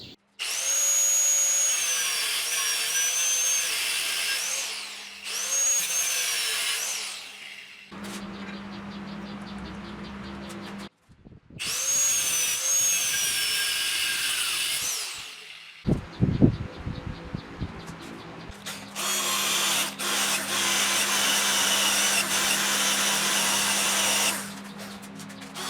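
A power tool cuts a 1 cm diameter metal rod for a motorcycle being converted into a bobber, with loud whining bursts separated by pauses and a heavy clattering stretch midway.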